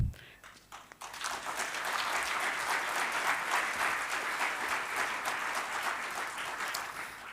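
Audience applause at a research infrastructure forum ceremony, a sustained, dense round of clapping from a crowded hall that starts abruptly after a brief pause and carries on steadily throughout.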